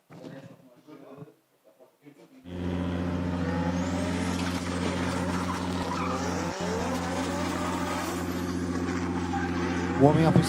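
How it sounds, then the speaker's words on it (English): A drift car, an FLMS 180SX, revs its engine loud and steady while warming up its tyres at a drift series round, with tyre squeal and skidding over a sustained roar; a commentator talks briefly before the engine takes over. "Warming up his tyres"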